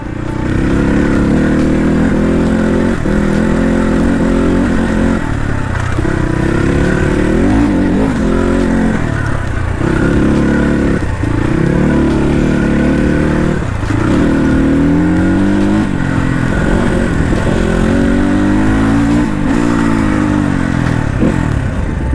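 A Crossfire RM250 dirt bike rides an off-road trail near Sakhu, its engine droning loud and close throughout with repeated rising and falling revs and clattering from the rough ground.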